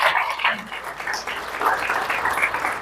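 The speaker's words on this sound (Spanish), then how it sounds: "Denle un aplauso a Cristo Jesús, por favor" Brief applause from a church congregation, a dense crackle of clapping at moderate loudness lasting a few seconds with a faint voice mixed in.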